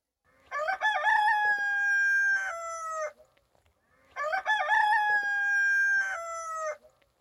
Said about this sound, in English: the most common sounds you probably think of when you hear a farm, is a rooster crowing in the morning